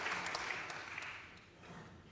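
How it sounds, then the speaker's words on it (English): Conference audience applause heard as a steady wash of many hands clapping, fairly distant and moderate in level, fading slightly toward the end. "So give again a round of applause to them"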